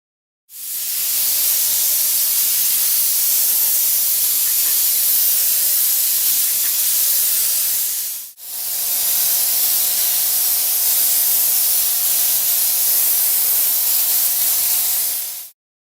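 Steady hiss of urethane primer sprayed onto a steel panel in two long continuous passes separated by a brief pause, loud and close with no talking.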